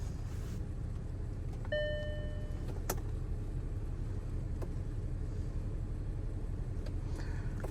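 An Audi 3.0L engine idling with a cylinder 5 misfire, heard as a steady low rumble with faint irregular ticks and a brief whine, fairly close and with no talking.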